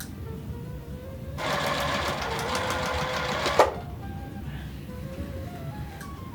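A sewing machine stitches through quilt fabric for an Encanto-inspired hourglass quilt, a steady rapid whirring run of about two seconds that stops abruptly, set against a quiet room.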